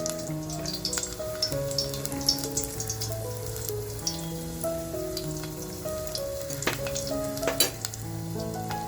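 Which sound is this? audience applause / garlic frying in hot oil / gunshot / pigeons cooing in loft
garlic frying in hot oil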